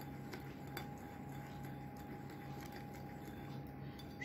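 A utensil scrapes and clinks softly against a bowl while stirring spinach cake batter, in a quiet, irregular rhythm, with a faint steady hum behind it.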